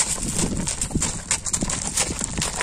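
A horse's hooves clip-clop in a quick, uneven run of strikes as the animal turns and moves close by, with steady outdoor background noise.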